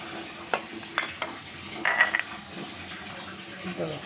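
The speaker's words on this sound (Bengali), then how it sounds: "এখন আমি মিশাই নিব সব কিছু।" Eggs, sugar, salt and chili get stirred together in a bowl, giving a few soft wet sloshing and scraping strokes that come in short bursts, quiet and close.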